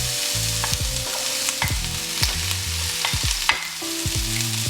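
Vegetables stir-fried in a pan for chicken fried rice, a loud continuous sizzle broken by repeated scrapes and clanks of the spatula at an uneven rhythm, close by with no talking.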